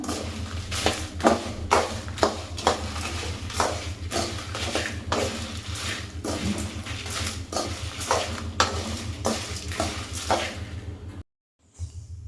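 Guntur and Byadgi chilies dry-roast in a pan for sambar powder, with steady rhythmic stirring and scraping over a low sizzle, close up, ending in a brief silence.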